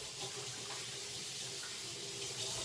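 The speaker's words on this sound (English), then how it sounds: "wash my hands a little bit." Running tap water pours steadily into a sink while hands are washed, a soft continuous splashing hiss with no voices.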